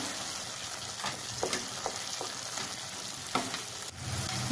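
Cooked chakvat greens are stirred and mashed in a pan over a soft, continuous sizzle, with several distinct scraping and tapping strokes from the spoon close by and no talk.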